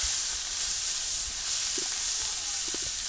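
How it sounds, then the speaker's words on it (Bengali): Onions frying in hot oil give off a steady, bright sizzle, with faint stirring clicks and small pops near the end, close and fairly quiet. "এই তেলের ভিতরে আমি পেঁয়াজ দিয়ে দেবো"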